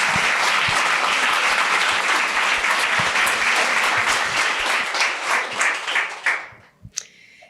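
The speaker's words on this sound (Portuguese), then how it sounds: "Palmas para o Christian." An audience at a literary festival panel breaks into loud sustained applause that keeps up steadily, then fades out near the end into a few last scattered claps.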